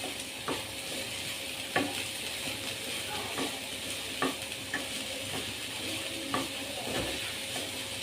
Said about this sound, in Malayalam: അതുകൂടി ചേർത്ത് നല്ലപോലെ മിക്സ് ആക്കണം